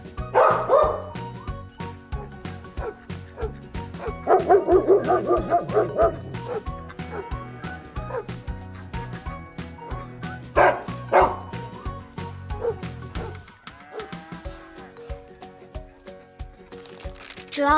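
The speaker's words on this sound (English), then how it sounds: "Dog." A small dog barks and yips repeatedly in bursts, with some whimpering between, close by and fairly loud, over a light musical background.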